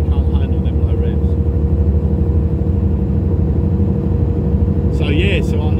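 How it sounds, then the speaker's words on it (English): A truck engine labours at low revs, a heavy, throbbing rumble that drones steadily throughout, with a brief whine and clatter near the end. "She don't like them low revs, man."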